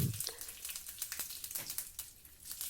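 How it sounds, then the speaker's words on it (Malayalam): Mustard seeds, curry leaves and dried red chillies sizzle in hot oil for a curry tempering, giving a soft, crackly frying hiss with a few small pops, faint and close, with no talking. "കടുക്, കറിവേപ്പില, വറ്റൽമുളക് എല്ലാം കൂടി ചേർത്ത് ഒന്ന് താളിച്ച്"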